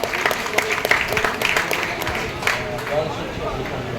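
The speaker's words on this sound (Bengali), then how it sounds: "এটার জন্য একটা জোরে হাততালি পাওয়া উচিত।" A crowd at a blood donation camp applauds loudly and steadily, with sharp individual claps standing out over a continuous clapping wash and some background voices.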